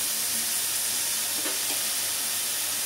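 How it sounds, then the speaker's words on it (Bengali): Uchhe shak (bitter gourd leaves) frying dry in a pan with black and white mustard paste, a continuous close sizzling hiss, steady and even throughout. "এটা একদম ড্রাই করে আমি ভাজবো"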